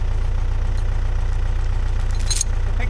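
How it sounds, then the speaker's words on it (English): A tractor engine idles steadily while lifting the end of a log for firewood work, a loud, low, rhythmic diesel chug close by, with a brief clank near the end. "I just had to use the tractor a little bit"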